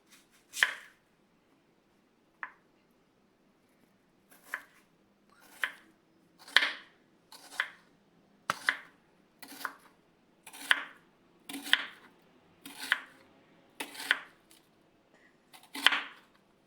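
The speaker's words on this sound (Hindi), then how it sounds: "प्याज मैं एक आपको कट के दिखा देती हूँ।" A knife finely chopping onion for dhaba-style egg bhurji, cut on a board in a home kitchen: crisp, close, evenly spaced single cuts, about a dozen in a steady unhurried rhythm with short pauses, no talking.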